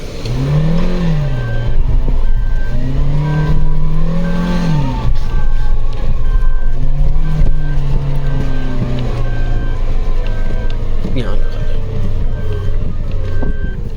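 A Suzuki Jimny climbs a sand dune in Jaisalmer, its engine revving loud and close, pitch rising and falling in continuous surges throughout.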